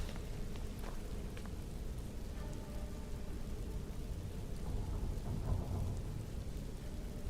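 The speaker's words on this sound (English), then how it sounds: "There's like a black rain falling" Steady rain falls and drips inside the Bleak Falls Barrow dungeon in the video game Skyrim, a constant dense patter over a low rumble with no voices.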